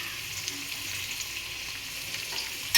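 Chopped raw jackfruit shallow-frying with a little turmeric in oil, giving a steady, close crackling sizzle throughout that ends in a brief louder knock at the very end.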